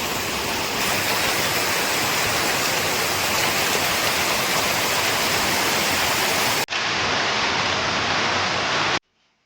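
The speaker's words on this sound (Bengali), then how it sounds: "বৃষ্টি হচ্ছে, শুরু হয়ে গেছে।" Steady, heavy rain falls in a continuous, close hiss with no breaks, is cut off suddenly, starts again for a moment, and then ends in silence. No one speaks.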